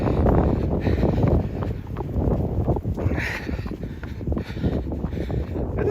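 Strong wind buffets the microphone on a mountain trail during a run, a steady low roar that swells and dips, with no voices.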